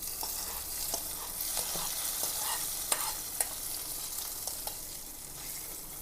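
Cashews fried in ghee are tipped into a sizzling fish molee curry, giving a soft, continuous sizzle close by, broken by scattered sharp pops and stirring clicks.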